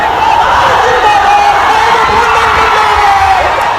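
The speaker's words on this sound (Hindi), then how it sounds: "उनकी रैलियों में युवाओं का सैलाब उमड़ा।" A large crowd of young people at Tejashwi's election rally in Bihar, a dense, steady roar of cheering and shouting voices with scattered whoops, loud and continuous throughout.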